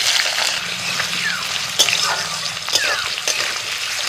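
Potatoes tipped into hot oil seasoned with dried red chillies, a bay leaf and panch phoron sizzle loudly and steadily, with a few brief stirring scrapes cutting through the hiss.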